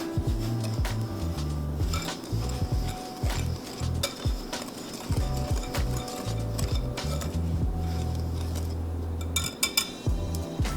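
A whisk or spoon quickly stirs flour, sugar, baking powder and salt in a bowl, giving a busy run of scraping, tapping strokes with occasional clinks, close and fairly steady.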